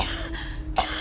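A single short cough sounds close to the microphone, followed by a brief breathy follow-through.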